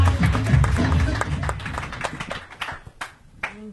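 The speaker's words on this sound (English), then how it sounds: "Put your hands together for your first regular tonight." Comedy club audience claps and cheers for a comedian taking the stage, loud at first and then thinning into scattered claps, with voices mixed in.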